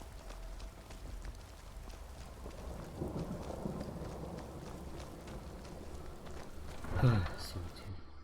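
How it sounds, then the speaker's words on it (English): Rain hisses steadily in Skyrim while a low, rolling rumble of thunder builds and swells near the end, fairly faint overall with a speaking voice occasionally over it. "Oh, and of course it's raining. Oh, and thundering too."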